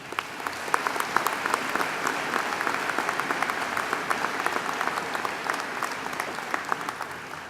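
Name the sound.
audience applause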